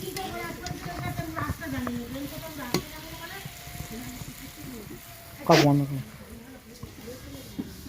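Potato and jackfruit fry in a pan with a steady sizzle and occasional stirring scrapes, a sharper burst midway, while a person talks over the cooking throughout.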